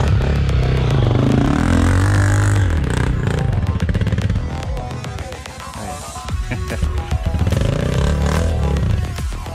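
An off-road motorcycle revs and accelerates nearby, its engine roaring loudly over rattling and scraping, easing briefly in the middle before climbing again.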